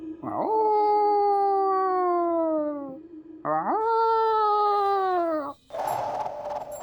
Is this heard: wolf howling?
yes